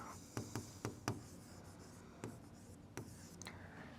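A pen writes a math equation by hand on paper, producing quiet, close, scratchy strokes in short uneven bursts with pauses between them and no voices.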